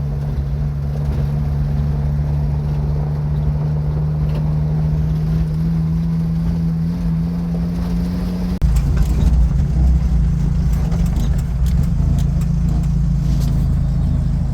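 A Jeep Wrangler YJ Rio Grande drives along on an evening ride, its engine a loud, steady drone with the note dropping partway through as it shifts, and wind and road rumble filling in behind.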